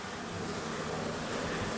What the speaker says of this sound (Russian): Смотри, пчелки летают, и тот улик работает.